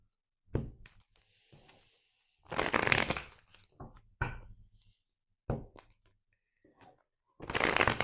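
A deck of tarot cards is shuffled in scattered bursts, with soft taps and slides and two louder riffling flurries, close and fairly quiet in an otherwise silent room.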